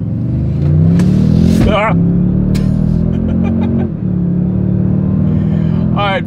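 2024 Toyota Sequoia large SUV in sport driving mode accelerating hard from a standstill, the engine note climbing steadily through the gears, heard from inside the cabin with brief talk over it.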